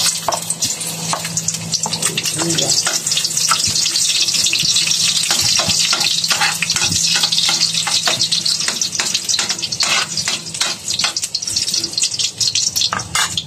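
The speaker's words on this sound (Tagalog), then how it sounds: "At tayo ay magigisa ng ating luya." Ginger sizzling in a hot pan while cooking a vegetable and fish dish, a steady close frying hiss with scattered crackles and a few clinks of stirring, continuous throughout with no talk.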